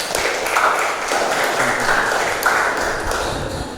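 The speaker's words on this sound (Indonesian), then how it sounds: "Tepuk tangan untuk Rara." An audience at a university broadcasting and film class presentation claps briefly for a student, giving a steady patter of applause in the room with little speech.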